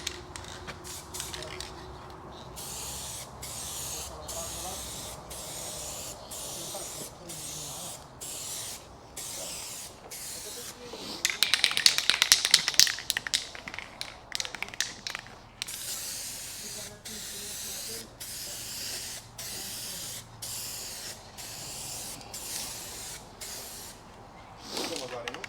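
Lacquer is sprayed onto restored car headlights in short hissing bursts from an aerosol can, then a longer, louder sustained spray pass in the middle, close and clear against faint background noise.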